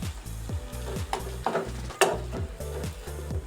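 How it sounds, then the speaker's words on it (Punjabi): Tomatoes and green chilies frying with garlic and ginger in a pan, a steady close sizzle broken by several sharper stirring scrapes and clinks, no talking. "ਹੁਣ ਅਸੀਂ ਇਹਦੇ ਵਿੱਚ ਤਿੰਨ ਵੱਡੇ ਟਮਾਟਰ ਤੇ ਦੋ ਹਰੀਆਂ ਮਿਰਚਾਂ ਇਹ ਪਾ ਦਾਂਗੇ"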